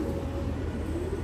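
Domestic pigeons, some in moult, coo nearby in a low, soft, continuous murmur over a faint steady background hum.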